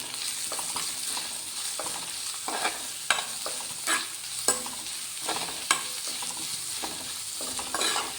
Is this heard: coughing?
no